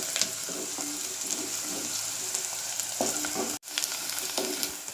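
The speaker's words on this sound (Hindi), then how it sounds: "खिचड़ी के लिए प्याज ज़्यादा लाल नहीं करेंगे, सिर्फ नरम करके लेंगे।" Chopped onions softening in hot oil in a pan for Konkani-style methi khichdi, a steady close sizzle broken by scraping stirs and a brief gap, with no talking.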